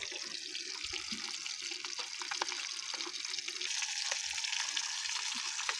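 Fish frying in a clay pan gives a steady, broad hiss with small crackles and an occasional clink of utensils throughout, no talk present.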